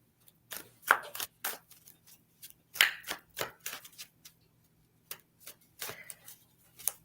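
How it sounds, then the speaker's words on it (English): Tarot cards riffled and tapped in a side shuffle, producing irregular bursts of crisp papery slaps and clicks close by, separated by short quiet gaps. "Oh, my shuffling is terrible. I just do the side."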